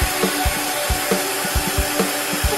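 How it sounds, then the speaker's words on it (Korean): A diamond bar burr works a jewelry piece to a matte finish, giving short repeated scraping strokes in a steady rhythm against a constant high hiss, close and moderately loud. "이런 틈새 같은 경우는 다이아바를 이용해서 천천히 작업해줍니다."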